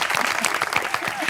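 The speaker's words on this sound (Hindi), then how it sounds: "तालियां." A studio audience at an Eid special comedy talk show bursts into brief, loud, dense applause, clapping steadily and evenly for a moment.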